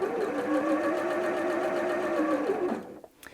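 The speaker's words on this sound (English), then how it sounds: "let go of the reverse button and the machine will now sew forwards." A Janome M100 QDC sewing machine sewing forwards runs with a steady, loud mechanical whir and rapid needle rhythm for nearly three seconds, then stops abruptly into quiet with a few faint clicks.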